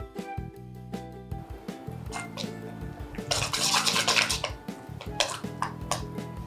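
A spoon stirring methi na gota batter of fenugreek leaves after soda or Eno and hot oil are mixed in, giving repeated close scraping and clinking against a bowl.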